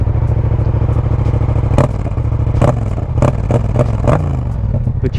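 Yamaha MT-07 parallel-twin motorcycle with an aftermarket exhaust idling close by, a steady low pulsing burble punctuated by several sharp mechanical clacks and thumps.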